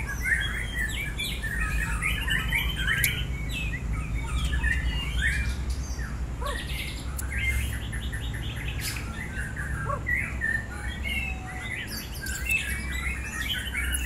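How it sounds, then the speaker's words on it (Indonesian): Bright, varied white-rumped shama song phrases and chirps ring out continuously at a songbird contest, over a steady low rumble and background chatter of other birds. "best of the best lomba burung murai batu"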